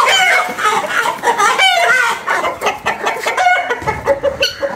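A naked neck rooster and hens cluck loudly and continuously close by, with short rhythmic calls overlapping throughout.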